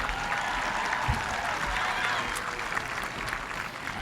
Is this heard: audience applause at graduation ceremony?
yes